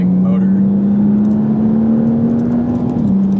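A BMW F32 435i with the N55 engine is being driven. A smooth, steady engine drone hums from inside the cabin and rises slightly in pitch before easing off near the end.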